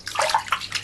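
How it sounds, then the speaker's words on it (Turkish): Water splashes and sloshes in a bath during a scrub-down, in a few uneven bursts that rise and fall close by, with no talking. "Çık duş alacağım ben."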